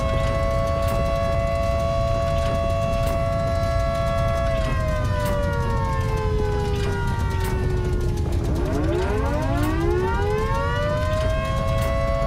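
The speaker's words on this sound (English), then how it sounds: "I like the air raid siren, but it's really loud." Air raid siren in the video game Volcanoids, a loud steady wail that slowly drops in pitch, then winds back up, continuous throughout over a constant background roar.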